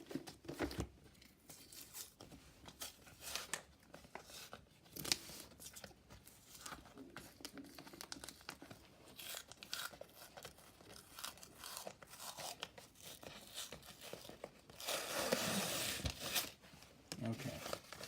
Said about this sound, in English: And now I can rip off the cover.